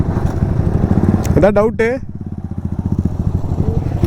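A KTM RC or Duke 250 motorcycle engine idles with a throbbing, uneven putter during wheelie stunt training, with a sharp rising rev partway through. Someone speaks briefly over it.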